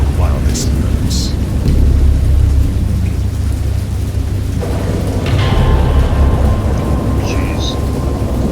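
Thunder and steady rain in the video game Dagon: a continuous loud rain hiss over deep rolling rumble, with a voice talking over it.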